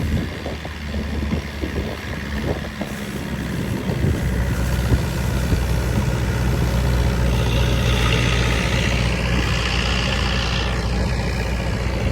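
A boat engine runs steadily with a loud, continuous low rumble and broad wash of water and wind noise, on a boat ride around the Phi Phi Islands in Krabi, Thailand.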